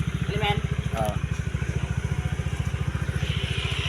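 A motorcycle engine idles with a steady, rapid putter, close by and fairly loud, with faint voices in the background.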